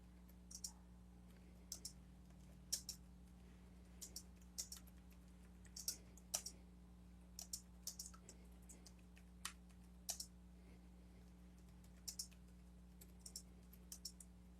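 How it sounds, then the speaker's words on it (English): Computer keyboard typing in quick, uneven bursts of crisp clicks, with a steady low hum from the room or equipment running underneath. "You see what I'm typing?"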